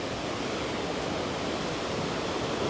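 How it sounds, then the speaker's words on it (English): A rushing waterfall swollen with rainwater gives a steady, dense broadband roar that holds constant and loud throughout, with no voices over it. "I do love this waterfall."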